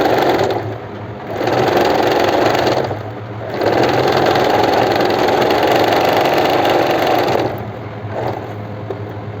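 A sewing machine with a built-in cutter stitches a palazzo pant, humming loudly and steadily in long continuous runs that briefly slow or stop between seams.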